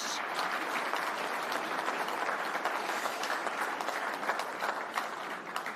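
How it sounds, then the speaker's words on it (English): At an innovation awards evening, the audience gives loud, continuous applause for entrants and winners, a thick rush of many hands clapping, with scattered cheers within the crowd. "what about a round of applause for everybody who entered tonight, to all of our winners"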